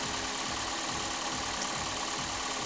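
A Toyota Prius engine runs at low speed while charging, its RPM easing down toward idle. It gives a faint, steady mechanical drone with a regular low pulsing throb and no talk.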